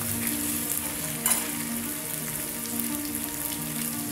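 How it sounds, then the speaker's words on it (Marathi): Garlic and ginger paste fries in hot oil in a kadai, giving a steady, close, even sizzle with soft crackles throughout and no talking over it. "तेल गरम झालं की याच्यात लसण टाकून घेऊया।"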